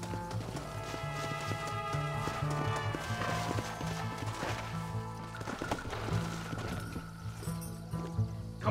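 Rapid hoofbeats from a horse in Red Dead Redemption clop steadily beneath a busy layer of music, the galloping horse sounding fairly close and continuous throughout.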